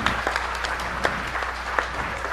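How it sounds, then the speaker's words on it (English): Audience at a 2005 Defcon hacker conference talk applauds, a steady patter of claps with a few sharper individual claps standing out, moderately loud in a hall with no talking. "everybody give Jennifer a hand of applause."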